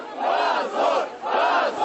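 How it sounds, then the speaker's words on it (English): A small, passionate protest crowd in Krasnodar, Russia, blocking the entrance to a modern art exhibition, loud massed voices rising and falling in three chanted swells. "A small but intensely passionate protest in Russia's southern city of Krasnodar."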